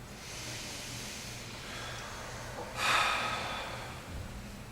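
A single deep breath is drawn in and let out slowly, a soft breathy hiss swelling near the middle, faint and close, with no talk.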